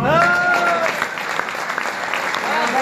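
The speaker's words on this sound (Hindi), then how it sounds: "इन दोनों के लिए तालियां।" Applause from a mixed audience of children and elders at a poetry gathering at Ayub Medical College, Abbottabad, a dense burst of clapping that carries steadily throughout, with a voice briefly rising over it at the start.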